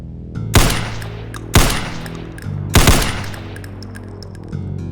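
Scoped rifle fire in the video game Ashes 2063: three loud, close single shots spaced about a second apart, each with a ringing tail, over a steady low game hum, with no talking.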